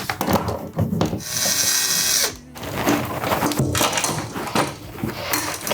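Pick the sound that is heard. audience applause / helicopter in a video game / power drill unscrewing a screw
power drill unscrewing a screw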